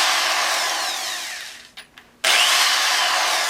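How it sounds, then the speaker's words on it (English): A power drill spins a rifle case trimmer, giving a loud, steady high whir that winds down, stops briefly with a couple of small clicks, then starts up again at full speed. "If you do them by the drill, you want to do them all by the drill."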